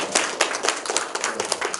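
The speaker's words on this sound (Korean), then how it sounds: "대한사람 이완영 강사님께 다시 한번 큰 박수 부탁드립니다." An audience at a public lecture on Korean history in Pohang claps briefly and briskly, a dense burst of hand claps heard close and fairly loud, with no talk over it.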